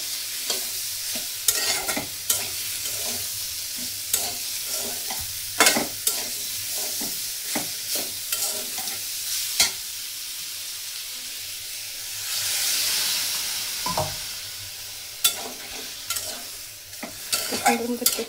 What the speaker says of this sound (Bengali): একটু ভালো করে সুন্দর মতো কষায় তারপরে আমি জলটা দিয়ে দেবো।